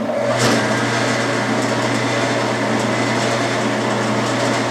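A metal lathe turning at about 500 RPM faces off a workpiece for a bell center punch, giving a steady motor hum and broadband cutting hiss that hold constant and fairly loud throughout.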